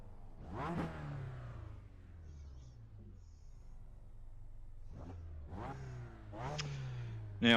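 A race car engine in the iRacing sim revs up in repeated loud rising bursts, one early and several more in the second half, each falling back to a steady idle in between, with no talk.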